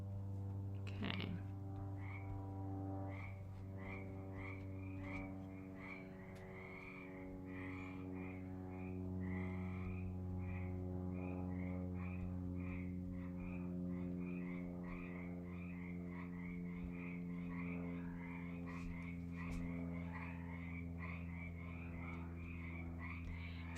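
Frogs croak in a backyard near a swimming pool, a dense rhythmic chorus of repeated calls continuing steadily and fairly close throughout, with a low constant hum underneath.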